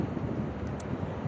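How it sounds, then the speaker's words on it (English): Strong wind buffets the microphone beside a highway in a steady, roaring rush of low noise, close and loud with no voices. "It is super windy."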